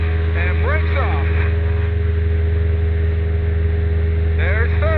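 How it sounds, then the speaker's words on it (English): A model airplane engine runs at full throttle for takeoff, a loud, steady droning hum that carries on under a voice talking. "Alright, full throttle and brakes off."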